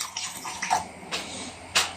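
Water splashes into a cooking pot while preparing dhaba-style matar keema, a few short bursts of pouring over about two seconds, close and fairly clear.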